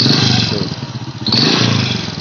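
A Honda Supra Fit motorcycle engine revs with a rough, rattling knock likely from a leaking head gasket, loud and close, surging twice over a continuous throbbing idle.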